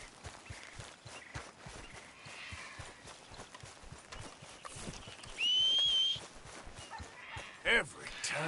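Horse hooves clip-clop in the video game Red Dead Redemption 2, a steady run of soft hoofbeats across the whole stretch amid game ambience, with a brief whistle-like tone and a short burst near the end.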